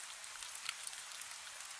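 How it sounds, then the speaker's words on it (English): Gentle rain falling outside a cafe, heard through its windows as a soft, faint, steady hiss with scattered tiny drop ticks, with no voices. "The rain remains outside, though its sound follows gently through the windows."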